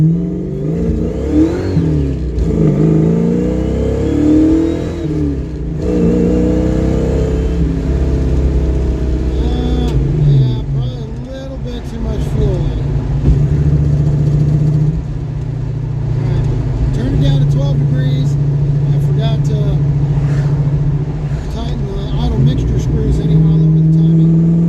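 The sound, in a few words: carbureted car engine running and revving during tuning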